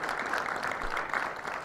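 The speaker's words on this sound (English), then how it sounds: "Come on, louder claps," Audience applause at a corporate panel event on digital transformation in financial services: a steady, dense wash of clapping that holds at an even level throughout, with no voices over it.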